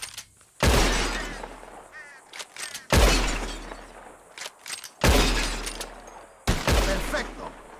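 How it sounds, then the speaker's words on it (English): Revolver shots at glass bottles in a Red Dead Redemption 2 shooting contest, with four loud, sharp reports spaced a couple of seconds apart, each trailing off with a shattering ring and faint debris. "Whoever shoots more of these bottles wins."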